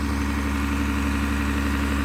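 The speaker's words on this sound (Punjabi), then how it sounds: "ਖੜਾ ਵਾ ਜਨਰੇਟਰ ਚਲਾ ਦੇਈਦਾ" A farm generator idles steadily while powering water pump motors, a loud, close, even engine hum with a deep throbbing drone that holds constant throughout the short stretch, with no talking.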